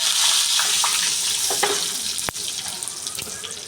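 Mustard seeds, cumin and asafoetida hitting hot oil in a pan give a continuous loud hiss and crackle, with a sharp pop partway through, and no talking.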